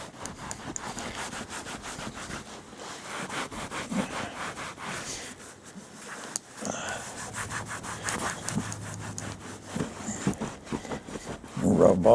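Dye is rubbed into a cracked leather seat from a 1929 Chrysler, with close, repeated scrubbing and rubbing strokes and a few faint handling noises.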